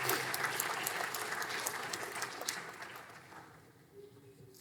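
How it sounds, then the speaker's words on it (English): Graduation ceremony audience giving a round of applause for the finalists, with dense sustained clapping that fades gradually toward the end. "Please let's give a round of applause to Sonia and all the others"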